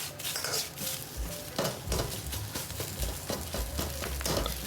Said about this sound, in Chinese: 先炒一下包菜，去一下水汽。